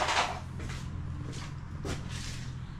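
Wooden bar cabinet doors and small drawers found in a storage unit are opened and shut, giving several soft knocks and thumps spaced over a few seconds above a steady low hum.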